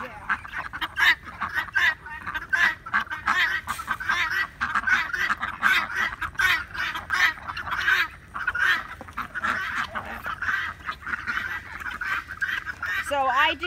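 Ducks and other flock birds quack and honk continuously while eating new crushed-corn feed, a busy overlapping chorus of calls throughout, with some background voices.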